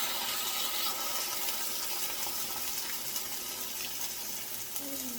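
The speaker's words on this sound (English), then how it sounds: "So basically, you just cook your bologna how you like it." Bologna sizzling and frying in a pan, a steady broadband hiss of hot fat that stays close and continuous throughout, with a faint tonal scrape near the end.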